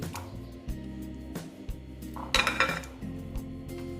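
Fried koi fish go into a pan and are mixed, giving soft metallic clinks and scraping of a utensil against cookware, with a louder clattering burst midway.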